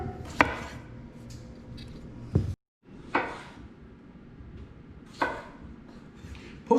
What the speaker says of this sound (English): Chop them in half.